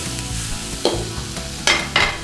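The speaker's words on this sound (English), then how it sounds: "Quick stir around." Beef chow mein ingredients are stirred in a hot pan, a continuous close sizzle broken by three quick scraping strokes of the utensil, the last two close together near the end.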